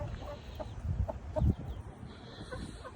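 Chicken clucking in a few short bursts at close range, with soft rustling and ambient noise in between.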